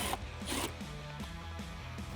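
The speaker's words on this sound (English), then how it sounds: "Using a 7mm socket, remove the 2 bolts that we just exposed" A 7mm socket on a ratchet removes dash bolts in a Jeep Wrangler JK, giving close, quiet, rapid clicking in repeated short strokes.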